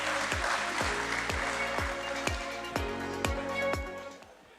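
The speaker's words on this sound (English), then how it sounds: "can we have a really big round of applause for Mr. Natarajan?" An audience at a stock exchange listing ceremony claps in a steady, dense wash of applause that fades toward the end. Evenly spaced sharp thumps run through it like a rhythmic beat.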